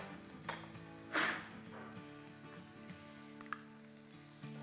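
About a tablespoon of garlic sizzling and frying in a pan as the base for a snakehead fish curry, a quiet steady crackle with a brief louder burst of spitting oil.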